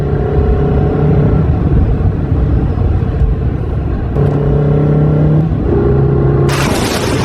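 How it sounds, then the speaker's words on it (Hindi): A car driving into a village with a loud, steady engine rumble and a droning tone that changes pitch partway through. A brighter burst of noise comes in near the end. "तभी एक व्यापारी अपनी गाड़ी से गांव में आ जाता है।"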